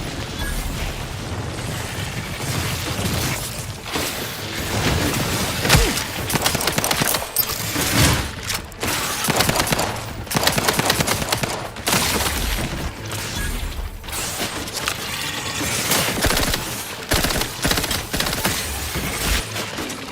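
Heavy gunfire in the video game The Outer Worlds 2, sustained loud bursts and rapid shots with booming impacts and explosions throughout, dense and continuous combat noise.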